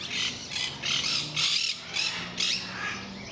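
A pheasant in a large open zoo bird exhibit gives a run of about six loud, harsh squawks in a steady rhythm, close by, with no voices.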